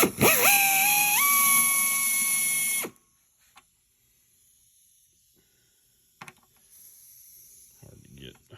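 A small air drill bores into a T-28B aircraft part: a loud, high whine lasting about three seconds that steps up in pitch as it bites, then cuts off to near silence with faint handling clicks.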